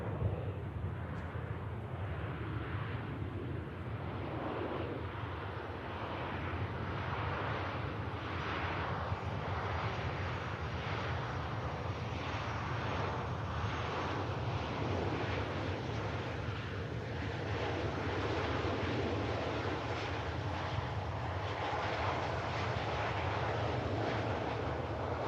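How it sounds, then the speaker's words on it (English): An airliner arriving from Chambéry lands and rolls out on the runway at Manchester Airport, giving a continuous broad engine roar with wind noise that holds steady and fairly distant throughout, with no voices. "Rolling out, going to make the rapid exit taxiway to our right-hand side to vacate the runway."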